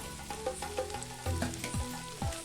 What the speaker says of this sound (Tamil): முட்டை பார்த்திங்கன்னா இந்த அளவுக்கு ஓட்டி வறுத்துக்கோங்க